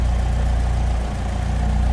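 A 1967 MG Midget Mark II with dual carburetors idles smoothly close by, a steady low throbbing rumble with an even pulse and no other sounds.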